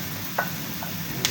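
Garlic hitting a hot pan for fried rice gives a soft, steady sizzle, with a couple of faint clicks from the pan or utensil.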